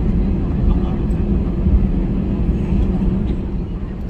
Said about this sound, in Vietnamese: Máy bay hiện tại đang lăn bánh đi ra ngoài phía đó.